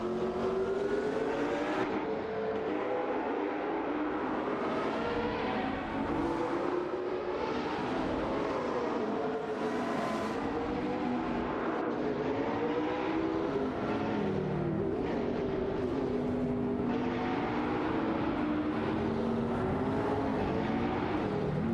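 Several racing cars in an AI-driven racing video game roar steadily, their engine tones rising and falling in overlapping whines throughout with no break.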